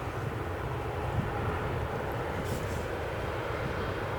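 A jet airliner departs from the runway at Manchester Airport, heard as a steady, fairly distant engine roar and rumble that holds on throughout.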